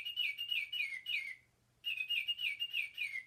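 A Baltimore Oriole sings a run of clear, whistled phrases, pauses briefly, then repeats the bright fluty song, close and distinct over a quiet background.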